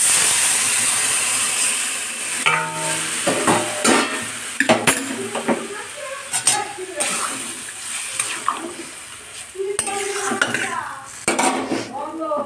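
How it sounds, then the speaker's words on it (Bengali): Hot water poured into spice masala frying in a pan, a steady hiss and sizzle under repeated close clinks and scrapes of a spoon stirring against the metal, with no talking. "এবার আমি এই গরম জলটা দিয়ে দেবো।"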